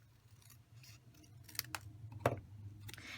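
Scissors trim paper cardstock, with several quiet, crisp snips at uneven intervals against a hushed background.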